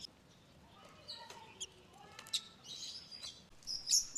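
Young birds about 27 days old, hatched and raised by hand, let out faint, scattered high chirps and tweets that grow a little louder and busier toward the end, over quiet background rustling.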